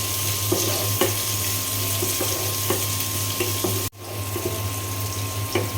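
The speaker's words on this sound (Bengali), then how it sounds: "এখন এই তেলের মধ্যেই পেঁয়াজ দিয়ে দিলাম" Onions frying in hot oil left from frying rohu fish, a steady close sizzle with occasional stir clatters and a brief dropout near the end, no talk.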